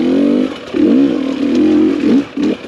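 A two-stroke TPI dirt bike engine is revved hard under heavy throttle, loud and close, with several sharp rising-and-falling rev surges and choppy drops between them.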